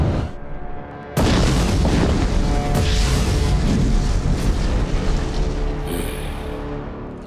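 A heavy booming video game blast erupts after a second, followed by a long roaring rumble of cannon fire and debris that slowly fades.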